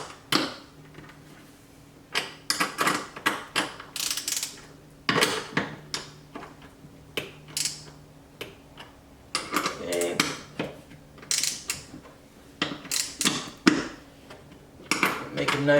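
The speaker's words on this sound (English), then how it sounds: "So I'm tightening it from the back side with the wrench" A wrench tightens a bolt on the back side of a conversion wing on a C8 Corvette, making irregular bursts of sharp metallic clicks and ratcheting taps, close by with short pauses between them.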